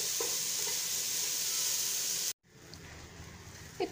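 Grated carrot for pulao stir-fried in a pan, a continuous sizzle that suddenly cuts off, then quieter spatula scraping and a few clinks follow.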